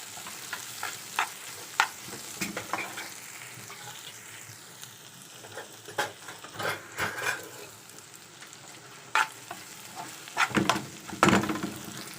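Kidneys fry with half a spoon of garlic in a hot pan, making a continuous crackling sizzle with irregular pops and scrapes of stirring, close and moderately loud. No speech.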